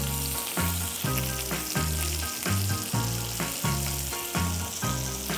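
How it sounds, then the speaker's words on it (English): Oil and butter heating in a hot cast iron pan, a steady sizzle under a regular pulsing low throb repeating about every half second, close and loud, no speech. "Cast iron pan is hot. Now let's add some oil. I'm adding a dollop of butter."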